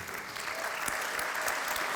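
A crowd at a public event for the city of Košice applauds a team of mayors and deputies, giving steady, dense clapping that carries on evenly for the whole stretch.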